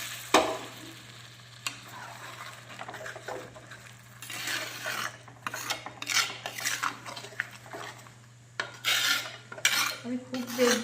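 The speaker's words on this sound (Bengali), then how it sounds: "হালকা করে একটু কষিয়ে নেব।" Black pepper chicken stirred and sautéed in a pan with a little hot water, giving steady sizzling with repeated scraping and clinking of a utensil against the metal, close up and alone, with louder bursts of stirring toward the end.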